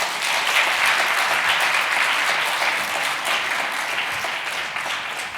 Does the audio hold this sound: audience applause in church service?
yes